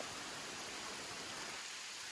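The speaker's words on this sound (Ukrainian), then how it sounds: "Мене спіткав дощик." Light outdoor rain hisses as a steady, even wash of noise that stays faint and fills the whole short stretch without any break.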